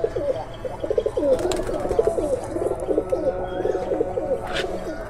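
A Kasuri teddy pigeon coos repeatedly close by, a steady run of low rolling coo phrases with brief pauses, over faint background noise.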